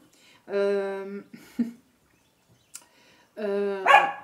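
A dog gives two drawn-out, tonal barks or howls, close and clear, separated by a quiet pause with a couple of small clicks and knocks.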